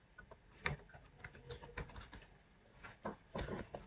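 Fingers tap on a computer keyboard in irregular bursts of quiet, close keystrokes with short pauses between them.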